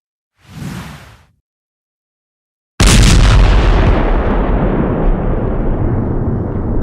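In Ukraine's Bakhmut direction, a brief soft whoosh, a moment of silence, then a heavy booming blast of artillery fire that rumbles and slowly decays.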